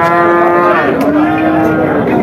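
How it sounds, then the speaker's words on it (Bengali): A Sindhi breed cow with four teeth at a cattle market moos once, loud and close, a long low drawn-out call rising slightly in pitch. "4 দাঁতের সিন্ধি জাতের গরু"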